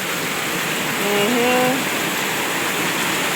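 Heavy rain pours steadily in a continuous, dense hiss that fills the whole moment, with a few faint voices briefly heard beneath it.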